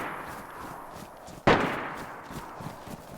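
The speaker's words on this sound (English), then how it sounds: "Can you hear me okay over those gunshots?" A single sharp gunshot cracks out in the video game DayZ over a steady background hum, with the report trailing off quickly.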